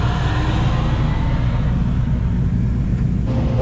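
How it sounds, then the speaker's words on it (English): A loaded dump truck pulls away from a red Georgia clay site, its deep engine rumble steady and close for a few seconds before easing slightly at the end. "There goes the first truck of the day."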